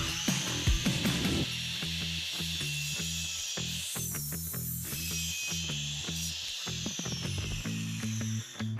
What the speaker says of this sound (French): Commencez par couper le bois sur mesure afin qu'il soit plus facile à manipuler.